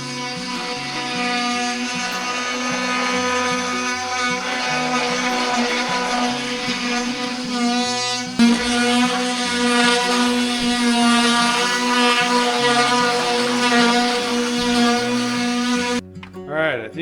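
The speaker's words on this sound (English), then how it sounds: "now I gotta cut this. Oscillating multi-tool" An oscillating multi-tool cuts wood during cabin construction, giving a loud, steady buzzing whine that runs nearly continuously for about sixteen seconds, with a short break partway through, before it cuts off abruptly.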